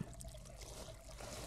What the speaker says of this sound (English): I can hear water tinkling.